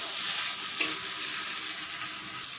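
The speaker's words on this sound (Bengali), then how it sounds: "আলু দিয়ে দিলাম, নারকেল কোড়া দিয়ে দিলাম, দিয়ে এটাকে আমি আবারও ভেজে নেব।" Grated potato and grated coconut frying in a pan, a bright continuous sizzle with one sharp clink of the spatula early on, fairly close and with no voices.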